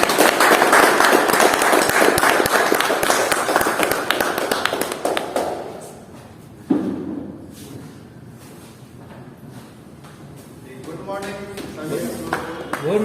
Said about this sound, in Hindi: उनके लिए एक बार जोरदार ताली के साथ